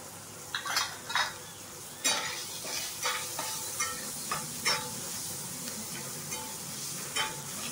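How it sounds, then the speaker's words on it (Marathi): Whole spices tempering in hot oil for a Marathi matki (moth bean) curry sizzle steadily in a pan while a spoon stirs and scrapes, with repeated clinks of utensil against metal over the continuous close frying hiss. "अशी फोडणी आहे ना चांगली जरा परतून घेतली"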